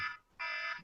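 A medication reminder alarm gives two loud, shrill electronic beeps close by, the second longer than the first, with no voices.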